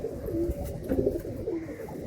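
Madrasi high-flying pigeons coo softly and close by in low, repeated throaty notes over a murmur of background noise.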